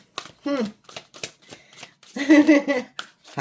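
Tarot cards are shuffled in a run of quick, dry riffling bursts, close to the mic, with a voice talking over parts of it.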